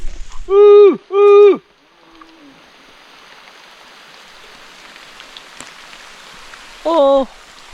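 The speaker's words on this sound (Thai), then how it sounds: "ฝนตกเลยนะ" Rain falls on a cattle farm as a soft, steady hiss through the middle of the clip, with loud drawn-out cow moos near the start and end.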